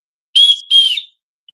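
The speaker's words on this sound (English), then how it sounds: "It's got that built-in whistle." A built-in whistle on an Opry Pro knife gives two short, loud, shrill blasts in quick succession, followed by a tiny faint chirp and then silence.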